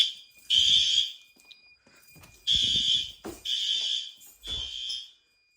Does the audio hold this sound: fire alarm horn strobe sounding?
yes